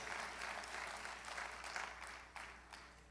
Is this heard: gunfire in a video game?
no